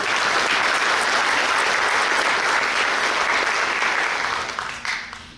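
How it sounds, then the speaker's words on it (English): An audience at a firefighter and emergency communications academy graduation applauds, with dense, steady clapping filling a hall for several seconds before gradually thinning out and trailing off at the end. "And let's give that a round of applause."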